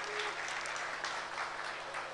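Audience applause at a Mersin promotion days event in Istanbul as the governor is welcomed to the stage, a continuous wash of clapping heard from a distance, fairly faint.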